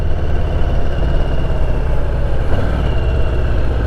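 An air-cooled Harley-Davidson V-twin touring cruiser idling, a steady loud low rumble with a continuous throbbing pulse, close by and unchanging throughout, with no voices.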